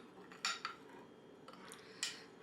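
A spoon stirring water in a bowl for a dessert clinks against the bowl a few times, light metallic taps spaced irregularly over a faint, quiet background.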